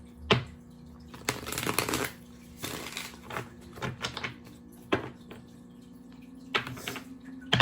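Tarot cards are shuffled in several quick, crisp bursts with short pauses between them, close up in a quiet room.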